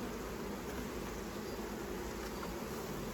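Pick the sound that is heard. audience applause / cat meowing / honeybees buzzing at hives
honeybees buzzing at hives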